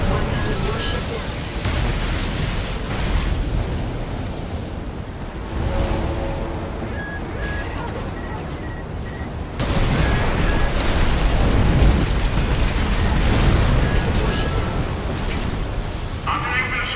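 A heavy warship explodes in the video game Armored Core 6: loud, sustained booming and rumbling blasts that swell sharply about halfway through, laid under continuous game noise and voices talking.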